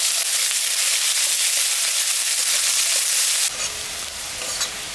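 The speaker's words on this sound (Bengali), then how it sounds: "কাটা পেঁয়াজটা দিয়ে দিই।" Chopped onion sizzles loudly in hot oil in a pan, a dense close frying hiss that drops in intensity near the end as the onion settles in, part of cooking a catfish curry at home.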